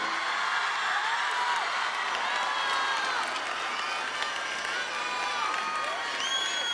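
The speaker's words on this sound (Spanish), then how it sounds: "Un gran aplauso para ustedes." An audience at an evening event claps and cheers, a broad wash of applause threaded with rising whistles and scattered whoops.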